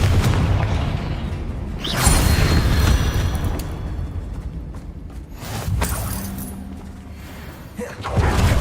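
Confringo blasting curse in Hogwarts Legacy, loud booming game explosions with a bursting impact near two seconds and further blasts and rumbling debris later, dense and close, no voice.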